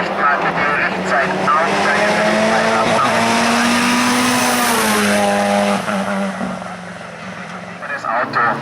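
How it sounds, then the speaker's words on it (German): A Mazda MX-5 GT-class race car at a hill climb roars past loud and close, engine pitch climbing through the gears, with a commentator talking over it throughout. "das Auto, der Mazda MX-5 aus der GT-Klasse."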